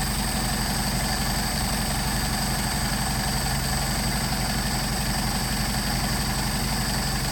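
A Mercedes 190SL engine with a Solex carburetor idles around 600 RPM, a steady, loud, unbroken low rumble with a fine mechanical buzz and no voices over it.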